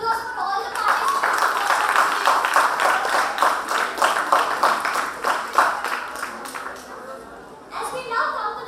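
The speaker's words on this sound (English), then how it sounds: "Another round of huge applause for all the participants." Participants at a college cultural program are given a round of applause, heard as a burst of close, rhythmic clapping that fades toward the end, with a voice speaking at the start and again at the close.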